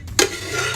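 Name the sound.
stirring ogbono soup with okra in a pot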